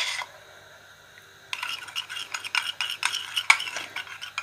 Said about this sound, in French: On mélange. Et là, on a notre magnifique vinaigrette.